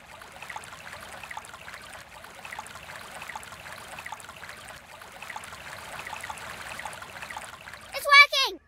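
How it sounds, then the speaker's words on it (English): A cartoon tap runs with a steady, close rush of water that fills a bathtub for several seconds, then a voice breaks in briefly at the end. "If we turn on the tap, the water will help Ducky rise to the top"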